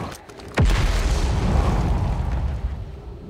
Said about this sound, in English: Why am I constantly hearing explosions?